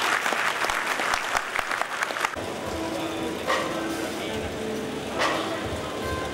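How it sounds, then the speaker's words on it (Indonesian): An audience at a consumer forum claps briskly for about two seconds, then the applause fades into a quieter room with faint murmurs and a few scattered thumps. "Satu tepuk tangan untuk Jack Thomas dan teman-teman."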